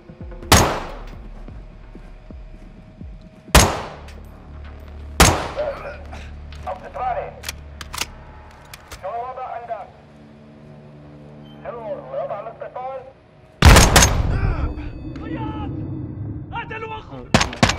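Gunfire in the video game Call of Duty Modern Warfare 2: several loud, sharp shots spaced seconds apart, one close burst near the end, with someone talking between them.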